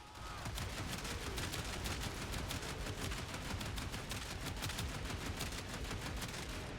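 Buzlok rifle from Warframe firing in a sustained, rapid stream of shots, loud and steady for the whole stretch with no pauses and no voices.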